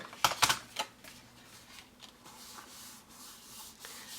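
Adhesive goes onto a paper envelope flap for a handmade card: a few quick close scratchy rubbing strokes at the start, then softer intermittent paper rustles and rubs.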